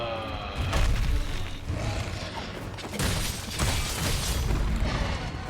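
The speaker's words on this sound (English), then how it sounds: "Oh my gosh, the explosions." Explosions boom over and over in the video game Monster Hunter World: Iceborne, loud blasts and bursts stacked over dense, noisy combat sound for several seconds.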